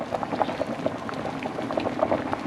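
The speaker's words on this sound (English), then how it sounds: "We got potatoes boiling here" Potatoes boiling in a pot while cooking bacon-wrapped walleye bites, a steady close bubbling and gurgling with soft irregular pops throughout.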